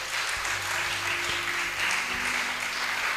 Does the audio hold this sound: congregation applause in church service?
yes